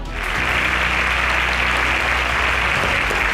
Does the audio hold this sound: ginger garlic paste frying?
no